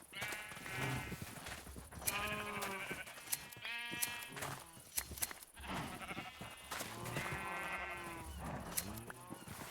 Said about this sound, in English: It's the loud sheep area.